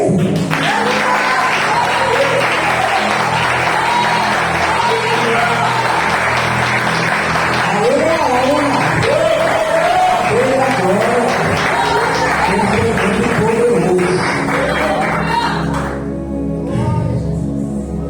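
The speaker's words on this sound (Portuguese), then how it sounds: "Aplauda ele" Sustained applause from a church congregation fills the whole stretch, dense and steady, with voices and background music woven through it.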